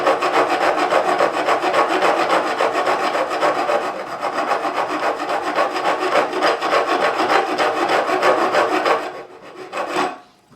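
A file rasps steadily across the fret ends of a Gretsch G5422 12-string guitar, with taped edges protecting the lacquer. The strokes are close and continuous for about nine seconds, then slow to a couple of lighter passes before stopping.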